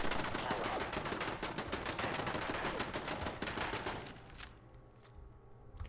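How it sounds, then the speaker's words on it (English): Rapid automatic turret gunfire in Fallout 4, a dense burst of fast repeating shots for about four seconds before cutting off into quieter game ambience with a few faint impacts. "Oh, it's a turret."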